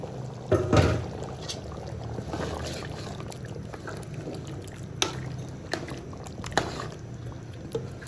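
Potatoes drop into a pot of mutton aloo gosht with a short splashy thud of liquid, followed by quieter bubbling and faint clinks over a steady background hiss.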